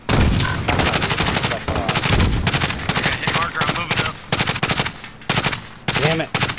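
Rapid automatic gunfire in Call of Duty, loud bursts of closely spaced shots with brief gaps between them, and a voice talking over the shooting.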